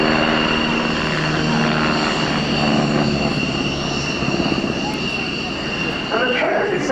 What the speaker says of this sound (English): It's a medium-sized, twin-engine, multi-purpose helicopter designed and manufactured by Polish helicopter company PZL Spinning